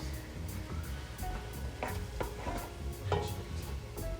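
Chopped onion sizzles in a hot pan while being stirred for turkey chili, a faint, steady frying hiss with soft, regular scraping and clinking of a utensil against the pan.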